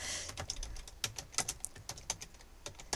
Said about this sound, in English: I'm just going to click and type